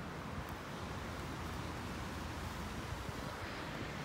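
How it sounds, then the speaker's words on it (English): Wind rushes steadily through trees on an allotment in May, a constant broad roar with gusty buffeting on the microphone and no talking. "can you hear that wind in the trees?"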